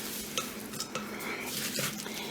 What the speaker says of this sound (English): we're just going to stir it up to make sure all those almonds get coated